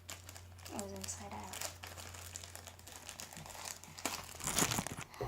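A Ziploc plastic bag, turned inside out, crinkles and rustles in quick bursts as someone tries to zip it shut, with a person talking over the handling.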